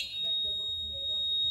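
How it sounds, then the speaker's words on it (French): A building fire alarm sounds a steady, piercing electronic tone that holds unbroken throughout, over a low background rumble. "Le panneau sonne, puis partout dans la bâtisse, ça sonne."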